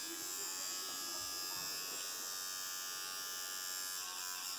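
A child brushes teeth with an electric toothbrush, its steady high buzz running unbroken and close throughout, with a few faint knocks of the brush against teeth.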